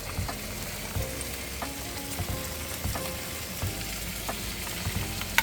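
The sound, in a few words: pork kimchi stew bubbling in a pot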